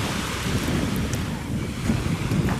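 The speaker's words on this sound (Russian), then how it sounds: "смотрите, море, какой легкий, такой легкий бриз" Sea waves wash onto a beach in Spain while a light breeze blows, a steady close roar of surf mixed with wind rumbling across the microphone, with no talking.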